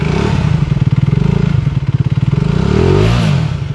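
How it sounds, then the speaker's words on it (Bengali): An AP Mondial motorcycle, an Italian-brand bike standing in a showroom, revs loudly and close by. It throbs through quick pulsing bursts that swell and ease off, then climbs once more near the end. "আমি বাইকগুলোর একটু সাউন্ড শুনিয়ে দিলাম।"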